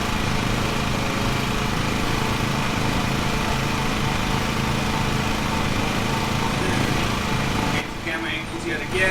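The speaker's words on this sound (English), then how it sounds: "time to take this engine, take this mower back" Engine of a lawn mower running steadily in the video game Lawn Mowing Simulator on PS5, a continuous loud drone that drops and thins out near the end.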